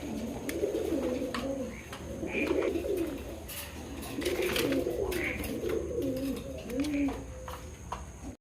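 Male Lotan pigeons coo in repeated low, rolling phrases close by, a steady rhythm of throaty calls with faint chirps and clicks from other birds in the background.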